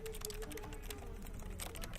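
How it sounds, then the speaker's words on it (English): Quick keyboard typing at a computer terminal in The Stanley Parable, a steady run of close, light key clicks over a low background hum, with no talking. "A little typing."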